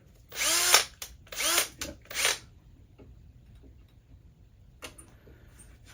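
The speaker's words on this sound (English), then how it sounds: "drill check, drill check, drill check. And when you go into it, full speed" Power drill boring into a body panel of a first-generation Smart Fortwo EQ, three loud whining bursts that rise in pitch as the bit spins up, separated by short pauses, then quieter clicks, a brief later burst and a single short spoken word.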